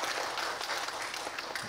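Church congregation applauding during a Sunday service, a steady wash of many hands clapping close by for under two seconds with no talk over it.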